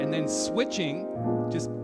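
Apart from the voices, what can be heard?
No everyday noise stands out behind the speech.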